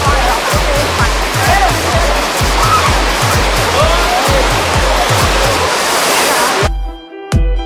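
Steady loud roar of rushing water at Pagsanjan (Cavinti) Falls, a dense continuous wash close by with a rhythmic low thumping underneath, cutting off abruptly near the end.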